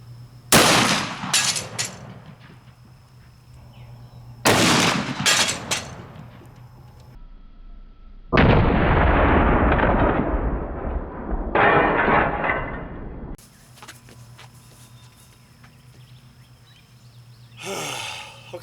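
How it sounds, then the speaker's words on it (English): Smith & Wesson 460 Magnum revolver firing 360-grain hard cast rounds into ballistics gel, with several loud, sharp shots in two clusters followed by a long rumbling decay and later a final bang, no talking. "Smith & Wesson 460 Magnum"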